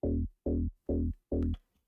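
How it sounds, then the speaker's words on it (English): Four evenly spaced punchy bass notes from the Zeta Dance Bass 3 synth, played in two stacked octaves, each short and cut off cleanly, played alone with no talking. "That is the legendary Dance Bass 3 from Zeta."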